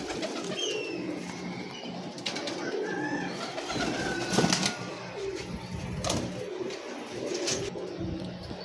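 Teddy pigeon chicks coo softly and repeatedly in a loft, with low murmuring calls and a few flutters over steady background hum.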